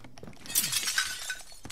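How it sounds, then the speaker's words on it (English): Glass shattering in the video game Warzone, a single close, bright crash followed by a brief scatter of falling shards, with no talk. "Who just broke glass? I did."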